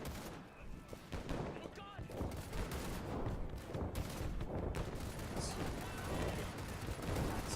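Dense, continuous rifle and machine-gun fire from the First World War trench shooter Over the Top: WWI, a steady barrage that stays loud throughout with no clear pauses.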